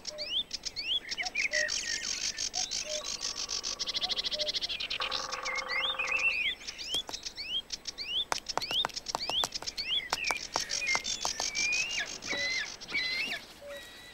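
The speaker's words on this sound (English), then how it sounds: "The air resonates with bird song." Many birds sing and chirp together in Caspian wetlands of flooded pastures and wooded waterways, a dense, continuous chorus of repeated calls with brief buzzy notes and scattered clicks.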